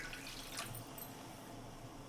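Water being poured into a pan while cooking laddoo, a soft steady pouring and trickling sound, faint and continuous, with no one talking.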